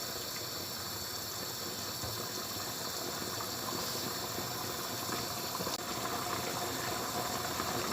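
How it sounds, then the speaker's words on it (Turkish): A steady, close rush of water boiling in a pot with melted butter for rice pilaf fills the whole stretch, a continuous hiss and gurgle with no voices, like a rolling boil. "Bakın suyumuz iyice kaynamış oldu."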